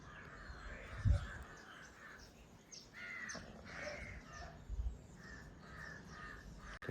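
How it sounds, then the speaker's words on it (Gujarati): Crows caw repeatedly at a moderate distance, the harsh calls coming in scattered bursts over a steady outdoor background with a few low thumps. "બીજા કોઈ પક્ષી નથી નીકળતા, પણ કાગડા જ કંઈક"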